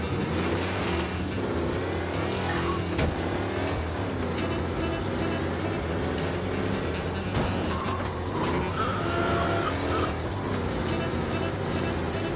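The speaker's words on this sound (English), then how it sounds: "Be alert for a race car out on the roads tonight" A race car in the Mafia remake drives through at night, its engine droning steadily and rising in a passing sweep over a constant rumble of traffic and game ambience.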